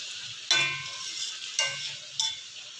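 Adobong sitaw with freshly added vinegar simmers in a pan, a soft steady sizzle broken by three sharp scraping stirs, with no talking.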